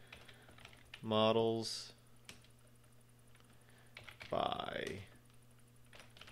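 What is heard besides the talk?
typing on a computer keyboard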